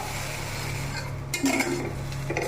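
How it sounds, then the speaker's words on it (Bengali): Potato curry with yogurt and cashew paste stirred in a pan, a close, steady low sizzle with a few metallic spoon scrapes and clinks against the pan. "এখন সাথে সাথে দিয়ে দিচ্ছি টক দই কাজু বাদাম পেস্টটা। দিয়ে একটু নাড়াচাড়া করতে থাকবো।"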